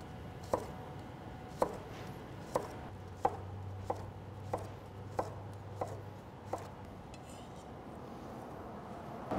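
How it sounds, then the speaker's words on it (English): A knife cuts thin slices on a cutting board in a quiet kitchen. About nine crisp, evenly spaced taps come roughly one per second, close and distinct. "I'm just gonna work my way around this half circle, cutting some thin slices."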